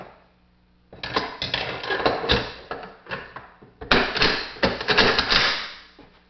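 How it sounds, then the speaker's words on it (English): An AK-47 bolt carrier being fitted into the slots at the back of the receiver during reassembly, with dense clattering metal clicks and scrapes in two bursts, close and fairly loud, without speech. "we're going to put the carrier into these two slots in the back."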